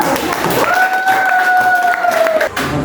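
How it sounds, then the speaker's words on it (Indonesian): A classroom of students claps for a classmate, a brisk crowded burst of hands with a loud whistle-like tone sustained through the middle and voices mixed in, ending abruptly. "Tepuk tangan untuk dia."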